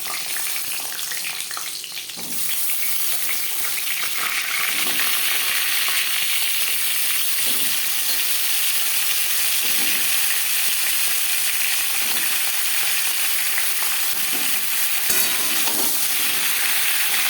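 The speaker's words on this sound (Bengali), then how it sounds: "15-20 সেকেন্ড জিরে ভেজে নেওয়ার পর দিয়ে দেবো পটল" Pointed gourd (potol) drops into oil already frying with cumin, and a steady, loud, close sizzle follows. It stays even throughout, with faint stirring scrapes now and then and no talking.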